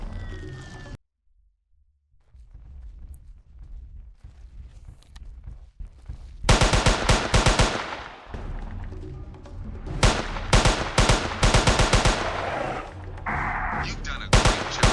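Rapid-fire weapons in a Jurassic Park hunting game, loud repeated bursts of shots after a brief quiet spell, continuing in dense runs with short gaps between them.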